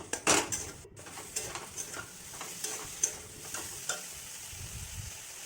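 Whole garam masala and spices are sautéed in a pan for a soybean curry, with sharp metal spatula scrapes and taps over a soft sizzle, close and intermittent.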